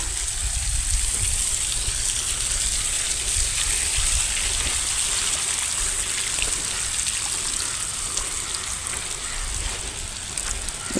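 A rain hose irrigation line sprays water across a banana field, a loud, steady, continuous hiss of falling droplets with no talk.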